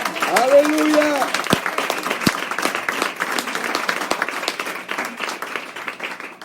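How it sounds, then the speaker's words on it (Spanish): A church congregation bursts into sustained applause with dense, overlapping claps that carry on steadily; a voice rises briefly at the start and people call out over the clapping. "Dale un fuerte aplauso al Señor"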